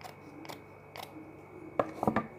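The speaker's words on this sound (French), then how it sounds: "Et je vais donc venir couper au centre." Scissors cut through folded lace at the centre: a few soft sliding strokes, then a quick cluster of sharp close snips at the end.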